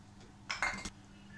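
Milk, pepper powder and salt mixed in a bowl for broasted chicken, a single short burst of spoon clinking against the bowl, close and faint, with no talking.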